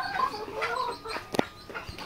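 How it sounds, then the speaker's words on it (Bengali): Layer chicken chicks in a brooding batch of about fifty, peeping in short, bright chirps, some overlapping, close by and fairly loud, with one sharper call standing out midway. "বোর্ডিং করা এগুলো হচ্ছে লেয়ার মুরগি বাচ্চা"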